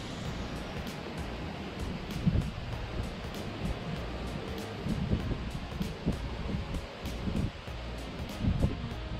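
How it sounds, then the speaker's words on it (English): Strong outdoor wind gusts roar and buffet the microphone during a fishing trip near a bridge, a constant loud rush with faint regular ticks throughout. "Super windy."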